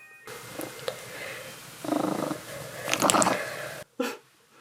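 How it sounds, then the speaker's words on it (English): A pet cat named Kojo purrs close up in a quiet room, a soft low rumble rising in a few swelling bursts, with a brief sharp knock near the end. "Let's see if I can get you purring loud enough that it'll pick you up"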